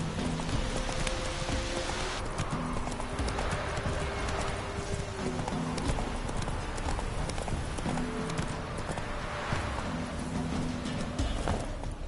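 Roach the horse trotting in The Witcher 3, steady hoof clip-clops running through the whole stretch over a dense bed of rain and ambient game sound, with an occasional faint whinny.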